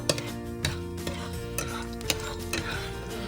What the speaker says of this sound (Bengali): গরম মশলাটা বেশ ভালো করে ভাজবো